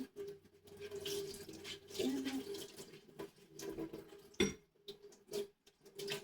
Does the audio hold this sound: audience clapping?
no